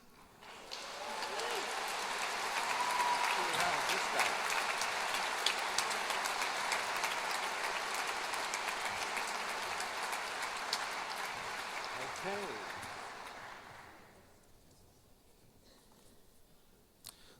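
A large audience applauds at an engineering school's senior recognition night, with dense, sustained clapping for about twelve seconds before fading into a quiet room.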